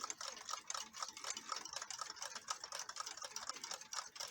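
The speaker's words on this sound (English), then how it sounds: "There's a nice German clock." A German clock ticks steadily in a collection of clocks, its rapid, regular ticks close and clear with a soft mechanical rattle between beats, no voices present.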